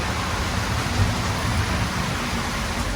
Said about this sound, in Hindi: लो भाई, अब बारिश शुरू हो गया, एकदम फर्स्ट क्लास।